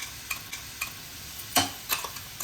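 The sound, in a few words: chickpeas frying and being stirred with spices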